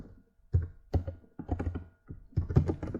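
A prompt is typed into a chat box on a computer keyboard, producing dull, thumpy keystrokes in short uneven clusters, close and fairly soft, with no voices.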